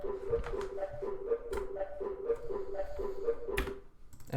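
A pluck synth from a deep house production plays a repeating rhythmic pattern of short pitched notes with clicky transients, steady and fairly quiet, with no voices.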